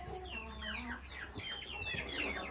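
A flock of chickens on a small farm clucking close by, overlapping chatter of several birds in a short, quiet burst with farm background noise and no talking.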